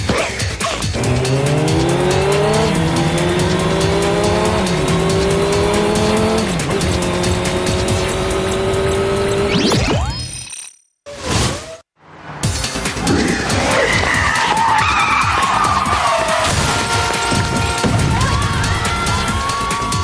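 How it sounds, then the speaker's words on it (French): Cartoon motorcycles race and skid in an animated episode, their engines revving loudly and sweeping up and down close by, with tire squeals, a sudden brief dropout, then more frantic engine noise and skidding. "Les motos du Whoop viennent à votre rencontre."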